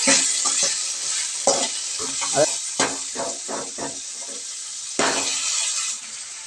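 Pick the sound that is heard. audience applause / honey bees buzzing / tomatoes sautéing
tomatoes sautéing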